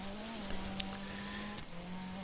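Rally car in the Dirt Rally video game, engine holding a steady mid-pitched drone under braking before dropping slightly in tone near the end, heard alone at low volume.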